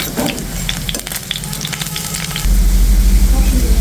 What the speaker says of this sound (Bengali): উল্টে পাল্টে খুব সুন্দর করে একদম মুচমুচে করে